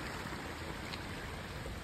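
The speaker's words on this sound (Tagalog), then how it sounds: "ang sarap pakinggan ng ano ng tubig no" Steady broadband rush of flowing water in a Japanese garden at Hanata En in Koshigaya City, a continuous, fairly close wash with no voices over it.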